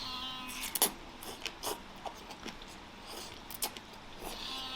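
A cat meows a few short times in a kitchen while a bowl of pork-topped noodles with chopped scallion is being shared, the calls brief and fairly faint among light clatter.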